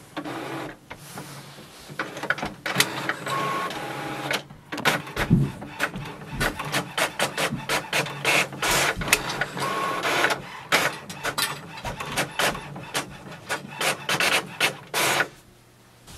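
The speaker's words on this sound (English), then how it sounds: "Click print and it will start the printing work." An HP OfficeJet Pro 8020 printer running a print job: rapid mechanical clicks, whirs and rubbing feed sounds in an irregular, busy rhythm, close and fairly loud throughout, with no talking.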